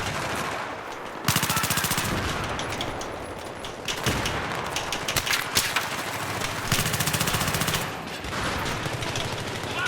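Rapid automatic gunfire from the PP-19 in Battlefield 3 on the Ziba Tower map, loud close bursts of rattling shots separated by short pauses, with further rounds continuing throughout.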